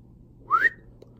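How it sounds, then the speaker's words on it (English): A single short, rising whistle, clear and fairly close, standing alone against quiet background hiss. "He whistled."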